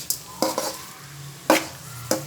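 Half-boiled beans and cauliflower fry in oil with a low sizzle, broken by a few sharp scrapes and knocks of a spoon against the pan, close and without talk.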